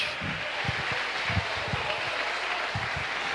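Applause from a church congregation during a Sunday worship service, a dense wash of clapping with some louder individual claps standing out, steady and fairly loud throughout.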